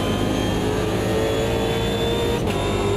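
A BMW M3 GT2 race car in Automobilista 2 holds a loud, steady engine note throughout, droning with strong harmonics and no break.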